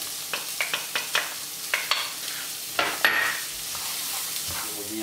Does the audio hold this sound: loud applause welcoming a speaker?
no